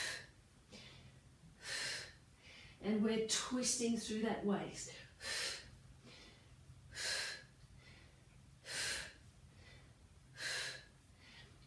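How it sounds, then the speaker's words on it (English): Heavy rhythmic breathing during a full-body Pilates workout, sharp regular exhalations repeating roughly every second and a half, close and breathy, with an instructor talking briefly partway through. "keep breathing"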